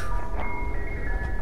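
A brief snatch of an ice cream truck's jingle drifts in from outside, a couple of held electronic tones over a low background rumble.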